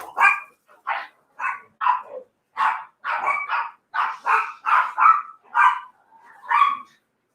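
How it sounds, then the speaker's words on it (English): Dogs bark indoors in a rapid string of about a dozen sharp, loud barks with short gaps between them, close by and with no talk over them. "as soon as my dogs start barking over here"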